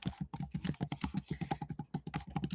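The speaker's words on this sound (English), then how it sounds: "typing a little thing here." Rapid, steady keystrokes on a computer keyboard, close and fairly quiet, with no voices.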